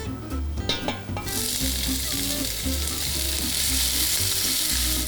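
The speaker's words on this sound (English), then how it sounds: "Now the onions go in." Onions dropped into a pot with cinnamon sticks and cumin seeds, a sudden burst of loud, steady sizzling frying that continues under a low hum, close by.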